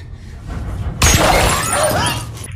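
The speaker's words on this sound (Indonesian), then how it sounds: "si penembak misterius itu melepaskan lagi tembakan sehingga ponsel Alice hancur" Gunshot in a film sharply shattering a mobile phone, a sudden loud crack and burst of breaking debris after a quiet start, fading with scattered fragments.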